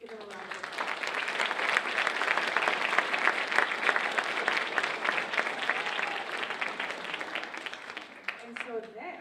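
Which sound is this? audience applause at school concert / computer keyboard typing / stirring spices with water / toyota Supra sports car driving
audience applause at school concert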